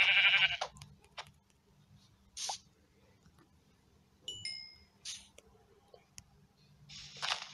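Sheep bleats from the Minecraft video game, several short, fairly loud bursts spaced irregularly against a quiet background, with a few clicks and small game sounds between them.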